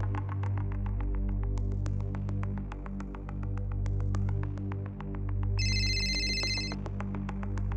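A phone rings with a steady, repeating electronic tone over a low throbbing hum, with a brighter burst of ringing partway through. It sounds fairly close and carries on alone with no talking.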